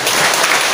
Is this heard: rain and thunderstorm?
no